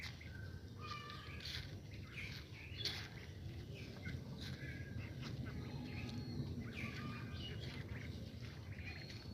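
Young ducklings, still not fully feathered, quack and squawk among rice plants in a paddy field, with scattered bird calls over steady outdoor background noise throughout.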